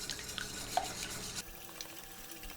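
Chili garlic sauce mixture whisked in a bowl, giving light, quick liquid swishing and clinking for a moment before it drops to quiet, with no talk.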